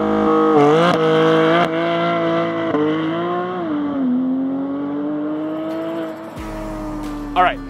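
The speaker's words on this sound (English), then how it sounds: "the first clip you saw in this video was my car with over-axle pipes using launch control" A Porsche 718 GT4 fitted with over-axle exhaust pipes launches under launch control, its engine holding a loud, steady, high-revving drone with sharp gear shifts before cutting off abruptly, heard up close.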